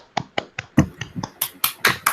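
A class claps for a presenting group in a school lesson, with sparse, distinct hand claps arriving in a quick, fairly regular rhythm, close and clear, and no voices.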